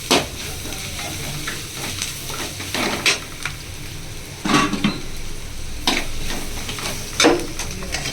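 Onions and spices sizzling in hot oil for chicken gravy, a continuous frying hiss broken by several sharp scrapes and clanks of a spoon stirring the pan, close and fairly loud.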